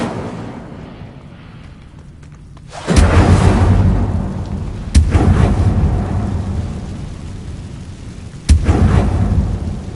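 An Incendio fire spell is cast in Hogwarts Legacy: after a quieter lead-in, three loud whooshing bursts of flame strike in turn, each followed by a fading, rumbling roar.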